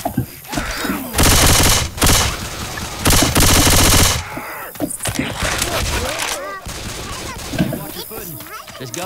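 Gunfire in the video game Left 4 Dead 2, loud sustained automatic bursts in two heavy stretches early on, followed by scattered shots and game noise while players talk.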